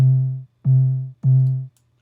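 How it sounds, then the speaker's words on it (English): An 808 bass drum from a free VST plugin plays three long, deep, booming notes in a row, evenly spaced, each one fading out slowly before the next hit. "So let's play this 808 here."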